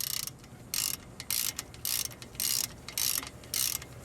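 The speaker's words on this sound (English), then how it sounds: "You can see we have a 3/8 inch ratchet and socket." A 3/8-inch ratchet and socket works a brake caliper bolt loose on a 1995 Buick LeSabre, giving about seven short, close, loud bursts of rapid clicking in an even rhythm, with quiet pauses between them.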